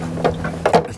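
Two brief metallic ratcheting bursts from a wrench turning a 22mm bolt while removing a Goldwing motorcycle wheel, close and fairly loud, with a low steady hum underneath.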